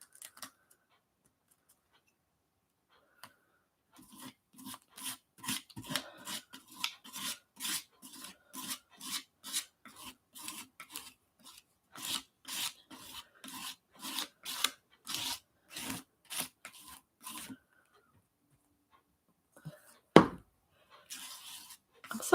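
White modeling paste is spread across white paper in a quick, rhythmic series of dry scraping strokes. The strokes are close and fairly soft, with short pauses between them and a louder scrape near the end.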